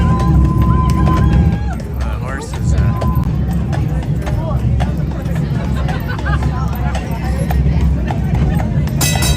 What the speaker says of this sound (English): We're gonna head up the street on the horse-drawn carriage.